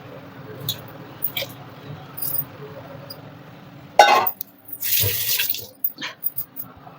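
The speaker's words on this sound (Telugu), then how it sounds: "ఒక చుక్క నీళ్ళు పోసి దీంట్లో పోసేస్తాను" Water is poured into cooking batter for summer buttermilk vadiyalu, a short splashy pour and a glassy clink standing out over soft kitchen clatter and a faint murmuring voice.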